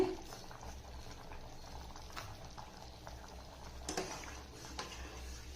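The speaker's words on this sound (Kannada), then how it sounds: "ಇದನ್ನು ಒಂದು ಐದಾರು ನಿಮಿಷ ಚೆನ್ನಾಗಿ ಕುದಿಸ್ಬೇಕು" Lentil curry made from hitikida avarebele simmers in a pot with salt and tamarind juice, giving a quiet, steady bubbling and soft popping, close but faint, with no voices.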